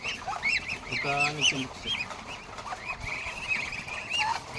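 Ducks quack and honk in a busy flock, calls overlapping nearby, with a person speaking briefly in Filipino among them.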